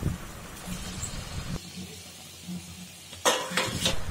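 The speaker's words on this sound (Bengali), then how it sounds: "3 to 4 মিনিটসের জন্য স্টিয়ার করতে থাকবো" Stolons of boiled taro (kochur loti) are stirred in an oily spiced mixture in a pan, giving faint scraping and clinking with a soft sizzle, and a louder burst of stirring near the end.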